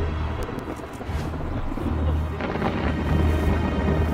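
A thunderstorm in Tornado Alley rumbles with heavy, continuous low thunder from nearby lightning strikes, loud and sustained with rain noise throughout.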